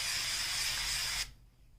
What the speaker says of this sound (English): Spray this with olive oil.